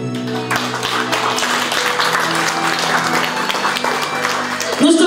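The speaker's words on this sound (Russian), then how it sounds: "И ваши аплодисменты." Wedding guests applaud steadily, a dense wash of clapping lasting several seconds with a brief louder swell near the end.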